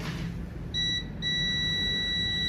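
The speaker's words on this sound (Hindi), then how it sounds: "मल्टीमीटर दीजिए, जी आप चेक करिए, देखिए वहां भी बीप आ रहा है" A multimeter on continuity test beeps while probing a diode on a Redmi phone board, giving a steady high electronic tone that breaks briefly and then resumes, loud and close.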